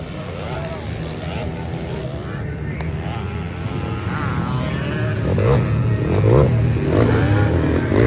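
Underbone motorcycle engines rev and race in a motocross final heat, a buzzing whine rising and falling, with loud voices talking and cheering over the noise.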